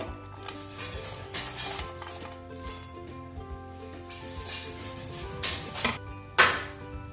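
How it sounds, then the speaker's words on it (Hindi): Sun-dried ginger being crushed into powder, heard as irregular clinking and clattering knocks with a few sharper strikes, close and moderately loud over soft background music. "अदरक हमारा अच्छी तरह सूख गया है। इसे अब हम क्रश कर लेंगे।"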